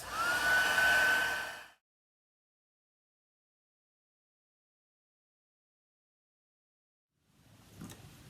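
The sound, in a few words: heat tool drying ink on vellum paper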